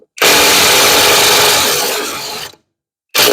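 An air impact wrench with a short socket works on the front end of a Farmall M tractor. It gives a loud, harsh burst of about two seconds, then goes silent, and a second burst starts.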